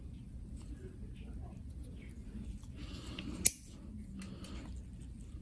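A thick, layered toenail cut with nippers gives one sharp close snap, set under quiet background talk in a foot clinic.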